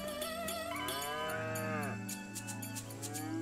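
Cows mooing in a farm pen area in the video game Shenmue III, a long, loud, close moo with a rising then falling pitch, followed by quieter lowing, with no talking.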